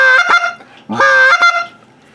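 A wooden goose flute call sounds two loud, close honking notes, each a rising cluck breaking into a sustained nasal honk, imitating a goose, with a short gap between them.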